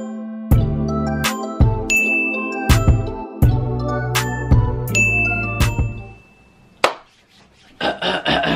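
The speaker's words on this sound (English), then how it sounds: "Also hit that post notification bell too." A notification bell sound effect rings out as a string of bright, clear dings in a steady rhythm over a low tonal bed, loud and close, ending in a short rustling burst.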